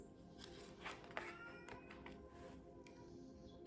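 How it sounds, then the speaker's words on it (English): A pet cat meows softly somewhere in a quiet indoor room, a few faint drawn-out cries barely rising above the low background hum. "Sorry about my cat, guys."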